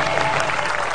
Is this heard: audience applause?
yes